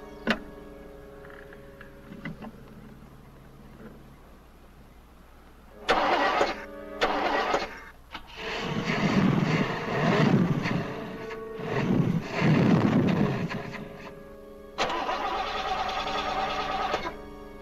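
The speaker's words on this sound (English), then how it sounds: "I can't fix the car with you starting it." A car engine is cranked over and over: a faint whirr, then several loud bursts of starter grinding that sputter and surge without catching, the last one settling into a steady run.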